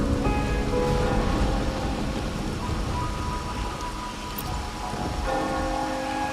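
Steady rain falls in Raguna in the video game Wuthering Waves, a dense continuous hiss with soft rumbling underneath and tonal game music layered over it.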